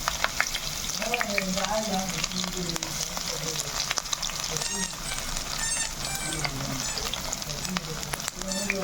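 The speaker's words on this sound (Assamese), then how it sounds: "তেল গৰম হৈছে পিঁয়াজটো দি দিওঁ" Chopped onions sizzle and crackle in hot oil in a pan, a continuous close frying hiss with stirring noises, while a voice talks faintly underneath.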